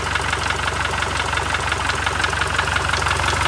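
A Toyota Fortuner engine idles steadily up close, a continuous low rumble with a faint rhythmic knock and no talking over it.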